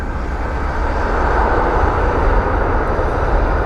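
A Delta Connection regional jet arriving inbound at Cleveland Hopkins International Airport, a loud, steady broadband engine roar that fills the scene without pause.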